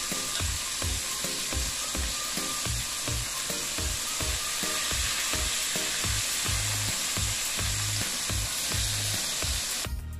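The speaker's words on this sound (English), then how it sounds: "Fry at a medium heat. Fry until it gets brown and crispy. I am flipping the fish." Fish fries in oil over medium heat, a loud, constant sizzle with rhythmic scraping and stirring knocks from a utensil in the pan, close up with no speech.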